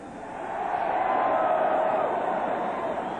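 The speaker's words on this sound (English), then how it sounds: "Give a cheer to Andy Hedden." A large stadium crowd at a New York Giants Super Bowl XXI victory ceremony cheers and roars in a sustained, steady wash of noise that swells slightly and holds, with no clear voices standing out.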